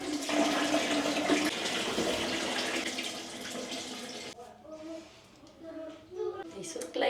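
Water runs for a hot bath in a home bathroom, a steady gushing rush that quiets partway through while a person talks faintly in the background.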